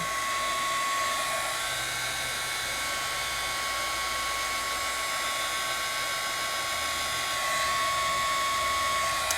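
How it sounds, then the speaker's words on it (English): A craft heat tool blows hot air in a steady, unbroken whirring roar with a thin high whine on top, close and constant throughout with no talking. "I can take my heat tool and move it in and separate"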